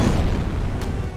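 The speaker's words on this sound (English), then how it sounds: "Wow, explosions everywhere." Booming explosions in the World War II strategy game Blitzkrieg II: Fall of the Reich, set in a 1944 city bunker defense battle, a loud continuous low rumble with a brief sharper burst near the end.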